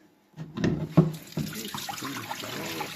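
Water being drained off soaking sprouting seeds through a mesh strainer, a close splashing pour that starts abruptly after a short silence and runs steadily to the end, with no talk over it.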